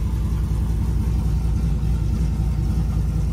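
A truck engine idling steadily as it is put in gear, a loud, close, continuous low rumble with an even throb and no change in pitch.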